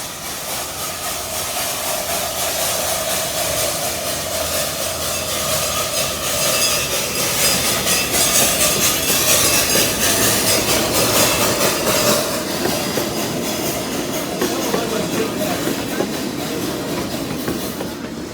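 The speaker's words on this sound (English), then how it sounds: "Now we're on the train" Steam train departing at a steam museum show, heard from aboard: a steady rumbling roll with rhythmic clatter and hissing, building slightly in intensity and staying close and continuous.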